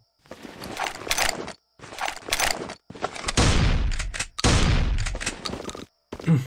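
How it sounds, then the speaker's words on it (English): Special shotgun in the video game Dust Heaven 2 firing in rapid bursts, loud and close, with a few short gaps between volleys and a final shot at the end. "this has a much higher fire rate than the normal shotgun"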